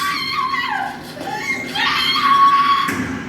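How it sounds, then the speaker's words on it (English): Screaming from the TV show Supernatural playing in a garage, with loud, sustained, wavering cries and shrieks that rise and fall and keep going throughout. "we'll wait till the screaming stops on Supernatural"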